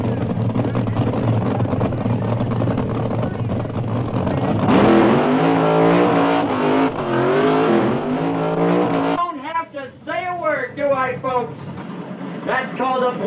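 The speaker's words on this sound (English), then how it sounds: "That's called a bleach burnout." A drag racing car does a bleach burnout on the drag strip, its engine roaring loud and sustained with screeching tires. Toward the end the engine drops back and a voice comments over the fading rumble.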